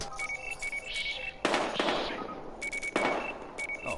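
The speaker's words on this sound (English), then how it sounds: "We've got gunshots." Gunshots in the video game Battlefield Hardline, two heavy bursts of gunfire over a tense scene, with short beeping electronic tones pulsing steadily between them.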